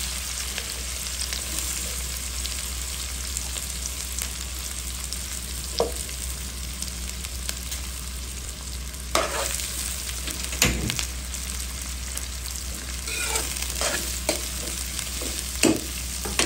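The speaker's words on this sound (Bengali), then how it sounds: "ভাজা ভাজা হতে থাক" Poa fish sizzles steadily in hot oil with onion and green chili, a constant close crackle broken by occasional sharp clinks and scrapes of stirring.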